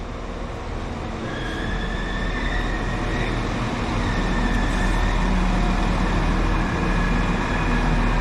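A Class 195 train arriving at Bolton station gives a loud, steady rumble of wheels on rail, with faint tonal squeals drifting above the continuous roar.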